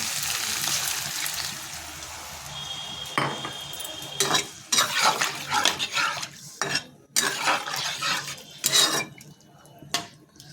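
Water poured into a pan of simmering curry, followed by steady clinking and scraping of a spoon stirring against the metal, with brief splashes and pauses between strokes; no talking.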